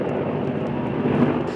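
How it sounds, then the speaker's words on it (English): A government helicopter flies low through smoke over a burning forest in southern Western Australia, its steady engine and rotor drone loud and continuous with no talk. "Above a burning forest in southern Western Australia, a government chopper flies low through the smoke."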